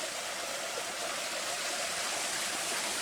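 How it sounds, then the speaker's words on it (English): A small stream along the River Corridor Trail in Cossatot State Park babbles close by in a continuous, even wash of flowing water, with no voices. "Small little stream here."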